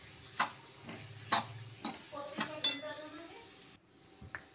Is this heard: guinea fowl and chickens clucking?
no